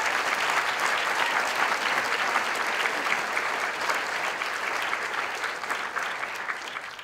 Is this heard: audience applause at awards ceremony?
yes